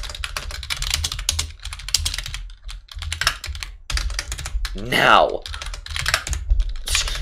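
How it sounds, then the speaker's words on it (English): Clicky typing on a computer keyboard, with quick bursts of keystrokes broken by short pauses, close and steady, while a person talks briefly over it, set during a Minecraft Bedrock server session. "I'm so bad at typing."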